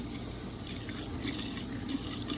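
Running water pours steadily through a blue bowl while fine gold concentrates from a highbanker are washed, making a constant close rushing hiss with small splashy variations.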